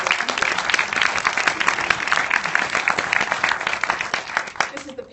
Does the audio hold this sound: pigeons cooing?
no